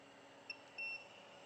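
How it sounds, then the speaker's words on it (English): Two short electronic beeps from a multimeter continuity test on an ESC, a brief chirp followed by a longer steady tone, faint against a quiet hum with no talking. "let's do a bit of measuring of beeping, looking for shorts"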